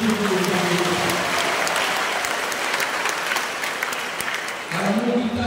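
A church congregation at an Easter Mass in Pontianak, Indonesia, breaks into sustained applause, a dense steady clatter of many hands clapping, with a voice speaking briefly in Indonesian at the start and end.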